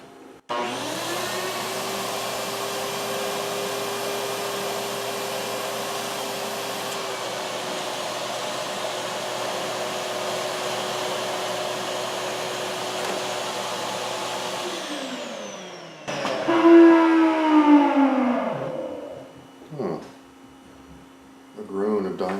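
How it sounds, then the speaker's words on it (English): Shop vacuum drives a homemade dust-collection system for shop sanders, roaring steadily and close for about fifteen seconds, then spinning down with a groaning whine from worn bearings as a voice speaks over the tail. "and turn the vacuum on."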